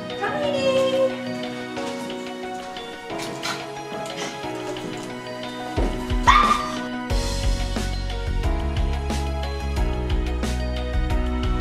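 A small dog in an apartment gives scattered barks and yips, with a few whimpers, mixed in with people talking and light background music.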